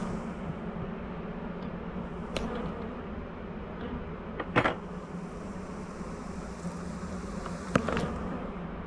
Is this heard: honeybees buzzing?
yes